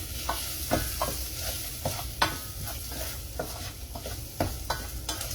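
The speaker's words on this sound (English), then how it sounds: "I'll just leave this to cook for a few moments." Food seasoned with salt and pepper sizzles steadily in a pan, a close, continuous frying hiss broken by regular scraping stirs and light clinks against the pan.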